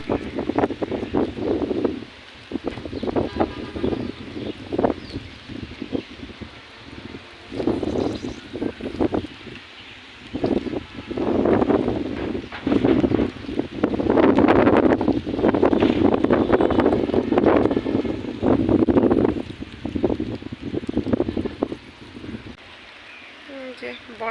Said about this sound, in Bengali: আজকে আর কি অনেক বাতাস